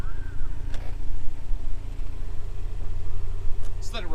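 A Toyota MR2 engine idles steadily with a low, even hum throughout, while people talk nearby over it.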